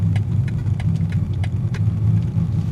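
A 2020 BMW G20 330i on the move gives a steady low engine drone with a continuous rumble, close and fairly loud, with faint intermittent ticks above it.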